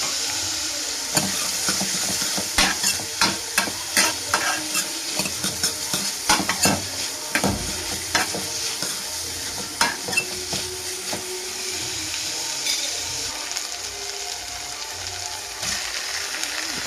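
Potatoes sizzle and fry in a pan for gram flour curry, with continuous close frying hiss and repeated scraping, clinking spoon strokes as they are stirred.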